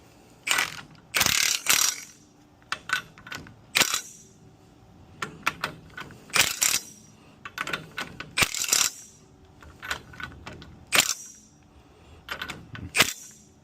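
A ratchet tightens the lower ball joint nut on an 11th-generation Ford F150, in repeated bursts of rapid metallic clicking separated by short pauses, loud and close with no talking.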